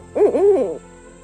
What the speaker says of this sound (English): we were visited by a pair of barred owls